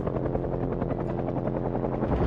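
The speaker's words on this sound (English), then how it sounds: "these helicopters keep flying overhead." A helicopter flies overhead in Project Zomboid, its rotor thumping in a steady, dense beat that stays loud and constant throughout.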